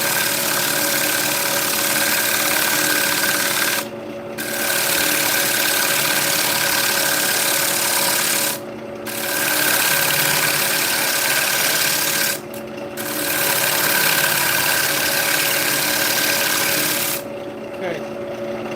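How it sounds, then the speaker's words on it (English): A woodturning bowl gouge is sharpened on a bench grinder: a loud, steady grinding rasp with an engine-like hum, broken by three brief pauses where the tool is lifted away before the edge is pressed back to the wheel. "I'm going to put a fresh edge on our bowl gouge"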